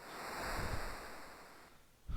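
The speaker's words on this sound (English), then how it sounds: "Ocean sounds." Ocean waves from the Final Fantasy V video game wash in a soft, hissing swell that rises and recedes over a couple of seconds, fairly quiet and heard alone.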